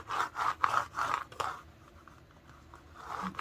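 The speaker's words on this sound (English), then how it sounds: "Scrape that down." Repeated rhythmic scraping of a tool over a transfer design laid on a Dollar Tree chalkboard sign, several close, firm strokes in the first second and a half, then quieter rubbing.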